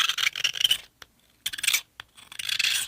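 Grade 5 titanium and aluminum phone frame of an OPPO Find N6 being scratched: three close, rasping bursts of metal scraping separated by short silences, with no talking.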